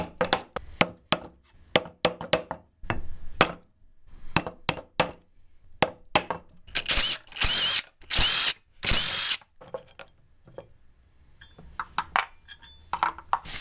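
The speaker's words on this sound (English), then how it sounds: "I'm just going to use the screwdriver and a hammer, and I'm going to tap all these lock tabs down." Screwdriver driven by a hammer taps down the lock tabs on the sprocket bolts of a 1971 Honda CT90, a close series of sharp metallic clinks in irregular bursts, with a few louder ringing strikes midway.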